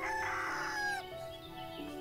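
Rooster in the farming game Everdream Valley crowing once close and clear, a drawn-out call that rises and then trails off, with no talk over it.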